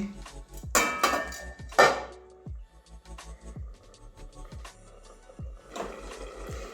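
A lid goes back onto a pan of palak paneer with a couple of sharp metallic clanks, followed by lighter clinks and rattles of cookware.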